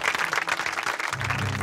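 Campers at a French naturist campsite break into brief, moderately loud applause, a short burst of scattered clapping with a low hum underneath.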